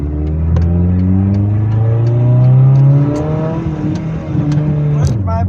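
Car with no exhaust muffler revving on a first test drive, loud rising and falling engine tones climbing through the gears close by, with brief speech near the end.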